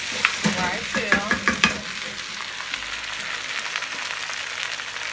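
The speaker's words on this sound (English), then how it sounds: "Alright, here's the stir fry." Chicken stir fry sizzling in a hot pan while being stirred, with a steady frying hiss and a few close scraping clatters of the utensil at the start.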